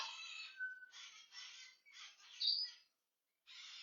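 Pet talking parrots squawk and chirp in short bursts, one sharp loud call standing out, with brief pauses and a silent gap before another burst.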